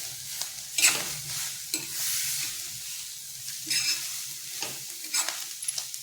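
Jackfruit with grated coconut and coriander is stir-fried, giving a soft, faint sizzle with several brief, intermittent scrapes of stirring.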